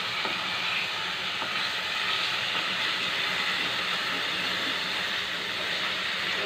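Chicken kosha masala is stir-fried in a pan, giving a loud, continuous hissing sizzle that stays steady throughout with faint scraping underneath.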